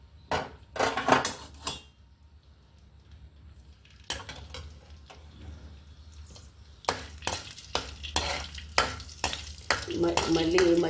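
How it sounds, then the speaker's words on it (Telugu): Chana dal frying in oil in a pan for a vankaya gongura pulusu, heard as intermittent stirring scrapes and clinks of a utensil against the pan over a low sizzle, with a quiet gap in the middle. "పచ్చిశనగపప్పు వేస్తున్నానండి."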